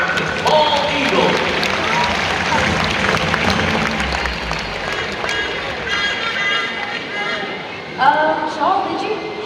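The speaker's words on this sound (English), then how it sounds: "a big round of applause for America's bald eagle" An outdoor audience at a birds-of-prey show in Singapore applauds the bald eagle. Steady clapping and crowd noise run for the full stretch, with an announcer talking loudly over it throughout.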